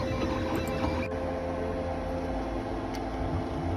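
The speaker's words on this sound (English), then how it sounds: "Here's the Scribble pumpkin, ready for 3D printing, about halfway done." A 3D printer partway through printing a Tinkercad Scribble pumpkin model, giving a steady, continuous mechanical whir with faint stepper-motor tones and a small click near the middle, constant in level throughout.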